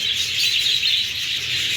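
Parrots chirp in a dense, continuous chatter out in the snow in minus four degree cold, a bright flock of tweets loud and steady throughout.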